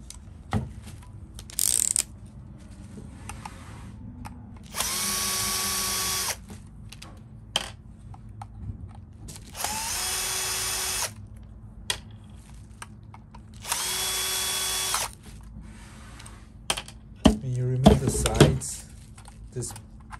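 A power drill backs screws out of an Infiniti Q50 dashboard in three separate whirring bursts of a few seconds each, with quieter handling clicks and rattles between them and a clatter near the end.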